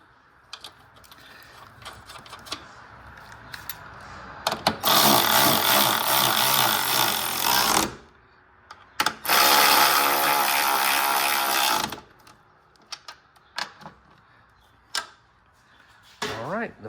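A nut is tightened onto Skyline GTR suspension with a ratchet, giving two long bursts of rapid, loud clicking plus scattered metallic taps and clunks in between.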